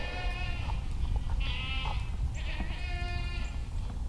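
Young goats bleat in a few wavering, nasal cries over a steady outdoor rumble on a farm, close to the listener while grazing on grass.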